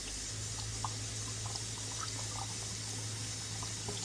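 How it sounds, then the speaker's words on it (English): Chitterlings rinsed under a running kitchen tap, a steady close wash of flowing water with a low hum beneath and faint splashes and knocks, no talking. "I'm just going to rinse this off."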